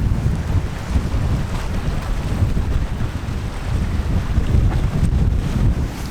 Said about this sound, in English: But it is cold and windy, bloody windy.